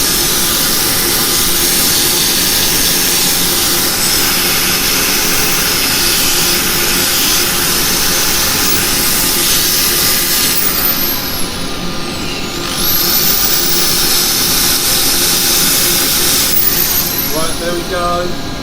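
Steady, loud abrasive whirring hum of wood being sanded on a spinning lathe runs continuously, with a brief dip in pitch near the end as the spinning slows.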